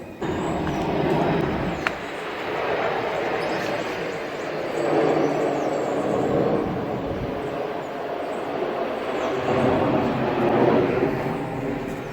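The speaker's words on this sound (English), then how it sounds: "just a little showing of, one of the Boeings landing" A Boeing airliner landing at a nearby international airport in the south of an island gives a broad, continuous roar that swells and fades over twelve seconds.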